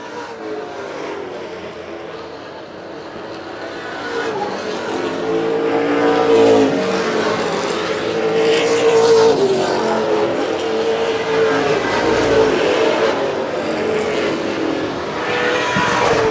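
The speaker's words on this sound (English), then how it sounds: "Nick Reno still the fastest car on the track." Pro Stock race cars roar around a track, the engine noise swelling from a distant rumble into a loud, sustained multi-car drone with revving as they pass, without any voices.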